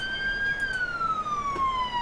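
A wailing ambulance siren from the emergency-services video game Emergency 4 sounds loud and steady throughout, its pitch sweeping slowly downward with no talking over it.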